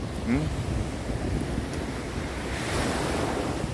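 Ocean waves wash onto Varkala beach at night in a continuous surging roar, close and steady, mixed with gusting wind noise across the microphone.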